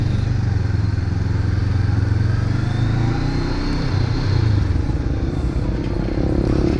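A 1000cc twin-cylinder motorcycle engine on its stock muffler idles and revs in a steady, low throbbing drone, close and continuous, with a slight rise in pitch partway through.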